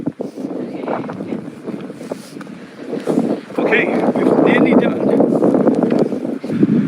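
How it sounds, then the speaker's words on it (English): Wind buffets the microphone outdoors during a sponsored unicycle ride, a rumbling, gusty roar that grows stronger partway through, with people talking throughout. "Oh, it's a bit windy."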